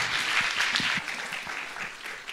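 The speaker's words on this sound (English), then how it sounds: "why don't we give a round of applause to our panelists" Round of applause from a security forum audience in Tbilisi thanking the panelists, a dense, even wash of clapping from many hands that fades slightly toward the end.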